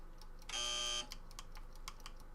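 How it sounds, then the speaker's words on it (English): A training buzzer from the video game Evoland 2 sounds once, a loud, steady electronic tone lasting about half a second, with soft keyboard clicks around it. "When you hear the buzzer, move to the right."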